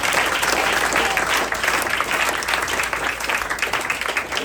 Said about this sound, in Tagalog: Palakpakan po natin ang ating Panginoon.